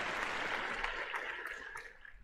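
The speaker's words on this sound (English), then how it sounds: "I will give him a big applause." Applause on a paranormal open-line radio show, a continuous wash of many hands clapping at a moderate, even level that tapers slightly toward the end, with no talk over it.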